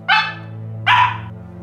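A puppy barks twice, a short sharp yip near the start and a second after a pause, close and loud over a steady low hum.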